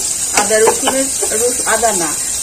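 Tomatoes frying in a pan give off a soft, even hiss that stays in the background while someone talks throughout.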